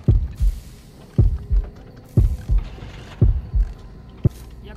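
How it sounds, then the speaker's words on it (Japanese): Heavy heartbeat thumps in the horror game Horrorfield, paired beats repeating roughly once a second, deep and loud over a low hum, with a faint creaking texture between pulses. "かなり心音がでかい感じですけど、離れていく。"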